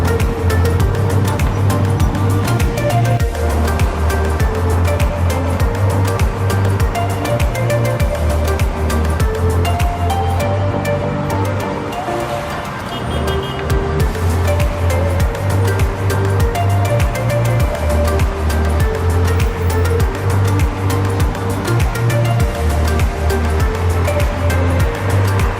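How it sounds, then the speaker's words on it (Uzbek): Cars pass along a road in Paris, a continuous loud roar of traffic that briefly dips about halfway through before surging back. The low engine rumble stays close throughout, and no one speaks. "Hozir mashinalar o'taveryapti."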